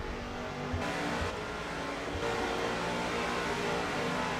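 Race cars in a racing video game accelerating on track, a continuous dense engine roar at steady loudness with a couple of slight shifts in tone.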